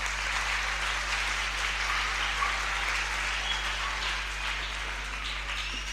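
Church audience at a children's leadership conference applauds for Jacob, a steady, dense wash of clapping from many hands that holds for several seconds without a break.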